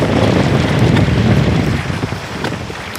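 Strong wind gusting through the crown of a tall palm tree, a steady loud roar with buffeting against the microphone that eases slightly toward the end.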